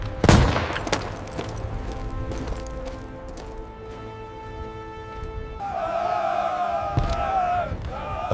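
A wartime battle: a loud close bang opens, then scattered gunshots sound over a crowd of shouting soldiers and a steady roar.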